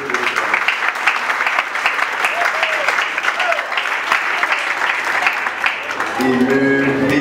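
A wedding assembly applauds steadily and loudly at a ceremony, a dense wash of many hands clapping throughout, with a voice speaking near the end.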